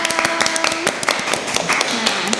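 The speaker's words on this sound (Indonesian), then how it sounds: "Tepuk tangan dulu dong." A few hand claps at the start of a hospital podcast, sharp scattered claps mixed with a voice and tonal sounds in a close studio setting.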